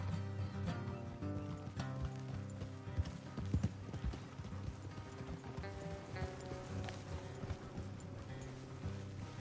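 Steady clip-clop of several horses trotting on a hard surface in Red Dead, rhythmic hoofbeats continuing throughout, with ambient noise and an occasional whinny.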